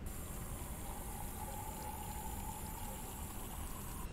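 Water poured in a horror video game about dying of thirst, a steady hissing flow that runs evenly from start to finish at moderate level, with no talk over it.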